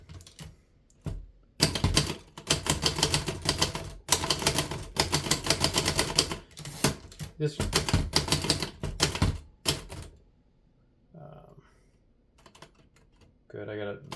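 Rapid, sharp key strikes from a 1937 Remington Noiseless Model 1 typewriter, typed in fast bursts with brief pauses, loud and close; a voice speaks briefly near the end.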